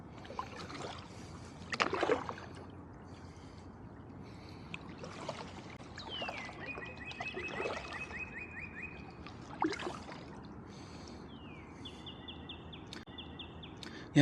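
Kayak paddling on the Bronx River past high rock ledges, with soft water splashes and dips from paddle strokes under faint birdsong and distant chirps, quiet and sparse.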